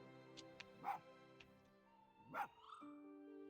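A dog character in a video game barks twice, each short, clear bark separated by quiet game tones and faint yips or whimpers, moderately loud against a soft musical background.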